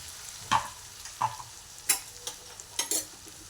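Poha is stirred in a frying pan, with a spoon scraping and clinking against the pan in a handful of separate strokes over a soft, low sizzle.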